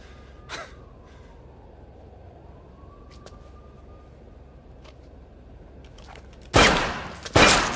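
Gunfire in the video game Infamous: Second Son: a single sharp shot early on, then two loud, harsh bursts close together near the end, over a quiet background hum.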